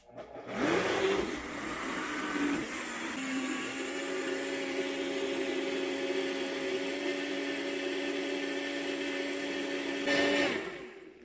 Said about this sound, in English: now we're going to blend that up. On high.